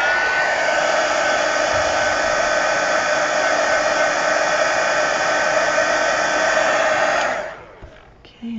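A hair dryer blasts loudly and close up to dry paint on an altered book page, a steady whooshing whine lasting about seven seconds before it clicks off, followed by a brief clatter.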